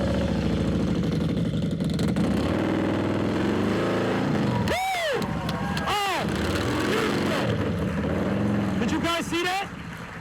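A motorcycle pulls away as the clutch is let out and the throttle opened, a loud steady engine drone with rising and falling pitch sweeps throughout, with people talking over it during a group ride event.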